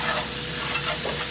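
Chili satay with annatto oil being stirred in a pan, a steady loud sizzle with soft scraping strokes of the stirring, close up and without talk.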